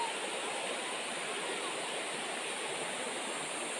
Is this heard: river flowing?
yes